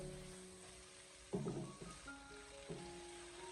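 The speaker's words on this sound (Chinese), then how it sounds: "慢慢的翻炒一小会，把小料煸炒出香味" Green chili peppers stir-fried with chopped aromatics over medium-low heat: a faint, steady sizzle with a few soft stirring scrapes, and no talk.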